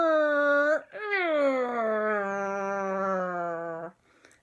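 A voice imitates a whale call with a long, loud, sustained moaning tone that slides slightly downward, preceded by a shorter rising hoot, all close and alone.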